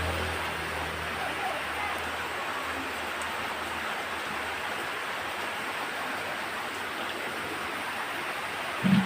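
Steady rain falling outdoors makes a continuous broadband hiss throughout, even and moderately loud, with a brief low thump near the end.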